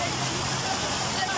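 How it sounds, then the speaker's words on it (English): Rushing water from a staged flood on a studio backlot, thousands of gallons of recycled water released from tanks on a hilltop, pouring as a steady, dense, loud roar with crowd babble mixed in. "The flood is the result of thousands of gallons of recycled water being released from"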